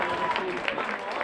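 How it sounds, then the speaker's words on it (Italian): Spectators applaud a women's 1500 m race at the Italian club athletics championships (CDS Assoluti) in Rovereto. A steady, dense patter of clapping fills the clip, with a voice talking over it. "Un bel applauso del pubblico"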